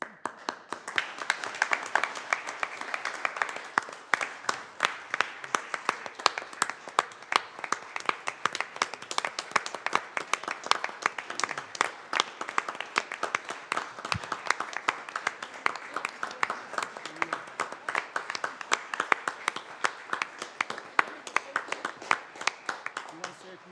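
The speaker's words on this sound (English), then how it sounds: "What the hell you clapping for?" Sustained applause from a crowd at a city council meeting, dense clapping that continues steadily for the whole stretch without letting up.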